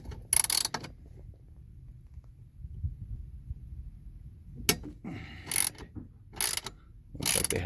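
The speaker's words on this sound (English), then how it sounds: "So I'm gonna loosen up this bolt here using a" A ratchet with a 12mm socket loosens a bolt on a 2020 Yamaha AR210 twin-engine jet boat, with an early quick burst of clicks, a quiet pause, then several short clicking runs close by.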